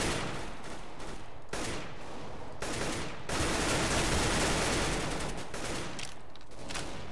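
Continuous gunfire in the video game CS:GO, dense rapid bursts and fusillades of shots filling the whole stretch with only brief gaps, loud and close, with no talking.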